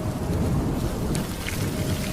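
Heavy rain pours in a dense, unbroken hiss with low thunder rumbling through it, loud and close, and no voices.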